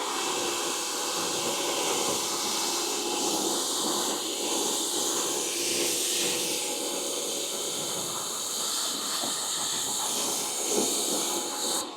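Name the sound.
spraying citrus pre wash on a Suzuki S-Cross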